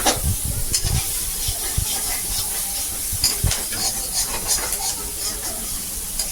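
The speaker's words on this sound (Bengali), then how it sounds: "পেঁয়াজটা একটুখানি কষিয়ে নিয়ে তারপর আপনাদের আদা রসুন দেখাবো" Onions frying in a pan give a continuous hiss and crackle, broken by occasional louder scrapes and knocks, fairly close throughout.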